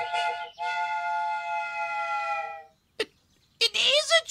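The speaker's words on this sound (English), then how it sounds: "I'm sure I heard a choo-choo train." A cartoon toy train whistle toots a long, steady choo-choo tone, followed after a pause by a short burst and a wavering second whistle, heard clearly with no talking over it.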